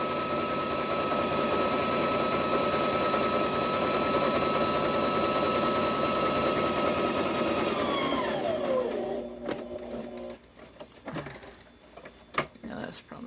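A sewing machine stitches in a loud, steady mechanical whir that runs continuously, then slows and winds down into a few scattered clicks.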